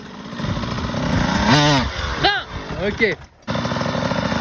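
A motorbike engine revs hard during wheelie practice, its pitch sweeping up and down in several loud rising bursts and then cutting out briefly before the engine resumes. A coach's voice speaks briefly over it.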